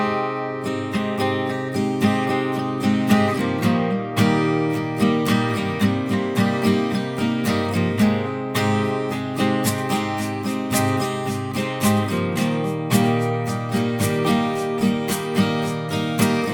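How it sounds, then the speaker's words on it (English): A full mix of layered acoustic guitars for an indie folk song, strummed and picked parts stacked together in a bright, steady rhythm, playing alone without voices. "So all together, this is what all the guitars sound like."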